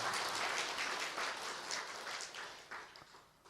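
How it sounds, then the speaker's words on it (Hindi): An audience at a spiritual class bursts into applause, a dense, sustained clapping that fills the room and slowly thins and fades over a few seconds, with no voice over it. "तालियां तो बजाओ जरा।"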